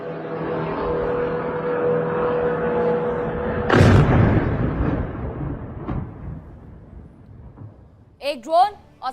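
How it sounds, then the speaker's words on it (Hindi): A steady hum is broken by one loud, sudden drone-strike explosion that rolls into a fading rumble. A voice speaks briefly at the end. "ये तस्वीरें जरा दिखा देते हैं कि किस तरीके से ये आवाज करके विस्फोट होता है"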